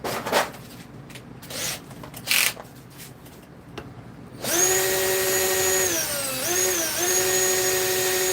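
After a few scattered clicks and knocks, a power drill whines loudly for several seconds, its pitch dipping twice as it bites in.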